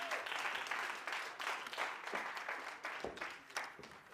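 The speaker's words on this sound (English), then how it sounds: "Let's give her a round of applause." An audience at an International Women's Day event breaks into a round of applause, a fairly soft, rolling wash of clapping that swells and dips in waves for several seconds.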